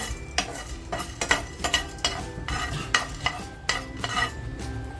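Whole spices dry-roasting in a hot pan, stirred with a utensil in repeated scraping, clattering strokes at a fairly even rhythm, close and without talk.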